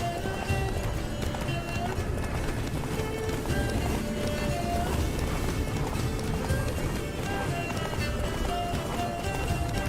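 In a video game, Geralt's horse Roach gallops with rapid, continuous hoofbeats under a rush of wind, steady and close throughout.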